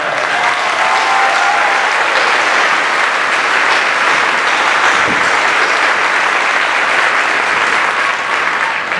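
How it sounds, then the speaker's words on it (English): Sustained, dense applause from a large graduation ceremony audience in an arena, loud and steady throughout with no break. "Let's applaud that."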